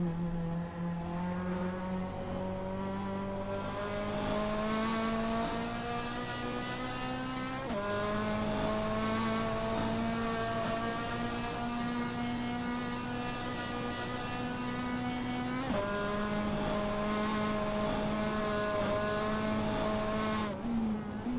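Race car engine in Assetto Corsa rounding Bilstein Curve at the Nurburgring GT sprint, a steady high-pitched drone climbing through the gears, with two sharp upshifts and a constant loud whine with no voices.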